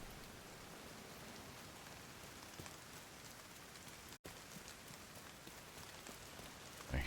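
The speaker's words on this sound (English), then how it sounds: "Speaking of rain, it's raining in the game." Steady rain falls in The Division 2 video game, a soft, even patter of drops on surfaces, faint and continuous with one brief dropout near the middle.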